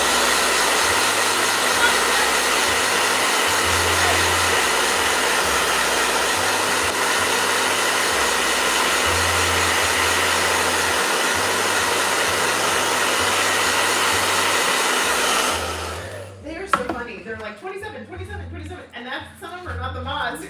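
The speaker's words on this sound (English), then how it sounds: "Yeah, blow dryer." A blow dryer runs with a loud, steady whirring roar for about fifteen seconds, then shuts off, leaving a quiet room where people talk softly.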